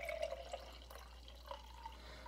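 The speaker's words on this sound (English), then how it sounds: "you're going to take your water and you're going to pour it into your jar" Water is poured into an empty, clear glass jar to make a tornado in a jar, giving a faint, thin trickle and dripping close by with no talking.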